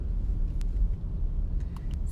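Low road rumble from a car driving on a road, steady and moderately quiet, with a few faint high clicks or chirps over the top; no one talks.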